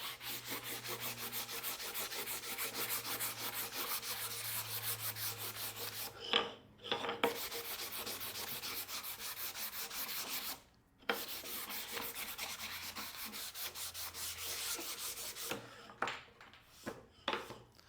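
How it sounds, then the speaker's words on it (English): Steady back-and-forth rasping of 320-grit sandpaper wrapped around a wood block, rubbed over wood, continuous and close, with a couple of brief pauses between stretches of strokes. "Let me try some hand sanding."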